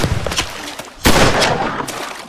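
Gunfire in a World War II film as soldiers crossing the Mekong River come under fire from Japanese troops, loud sharp cracks and a heavy blast with a reverberant rumbling tail.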